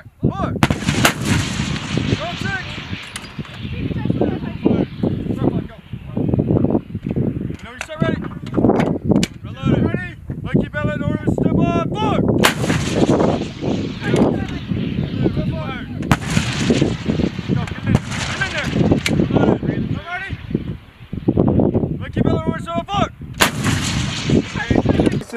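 M119 and M777 howitzers fire live during a field artillery regiment exercise, with repeated loud, booming reports and echoing blasts throughout, mixed with shouted crew commands and voices.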